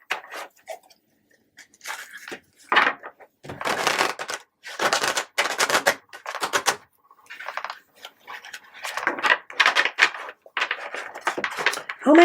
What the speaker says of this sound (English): I can't shuffle my cards.